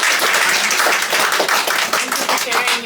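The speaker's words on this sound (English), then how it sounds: "Let's give a round of applause for Jared." An audience claps for a speaker at a talk, with dense, steady applause for about three seconds that is close, loud and even in rhythm throughout.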